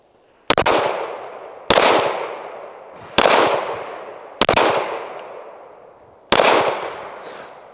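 Five loud gunshots from a SIG P320 XFIVE competition pistol at an outdoor shooting range, spaced about a second or more apart, each sharp crack trailing off in a long ringing echo.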